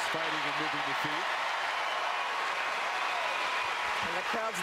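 A tennis crowd applauds at the Australian Open women's final, a broad, steady wash of clapping throughout with commentators talking over it.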